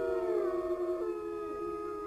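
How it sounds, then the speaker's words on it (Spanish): A long, sustained wolf howl, clear and tonal, gliding slowly in pitch and fading toward the end, heard alone with no other sounds. "El aullido del lobo."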